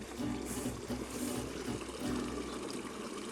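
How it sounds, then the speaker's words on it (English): A small waterfall amid foliage gives a faint, steady trickling rush of water, continuous and soft throughout with no talking. "Oh, I found the first waterfall."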